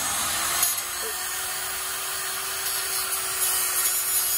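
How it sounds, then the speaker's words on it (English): A power drill grinds steadily into broken bolts on a 1952 GM PD4103 bus, a continuous high whirring and scraping held close and loud for several seconds. "So I'm drilling these things out a little bit."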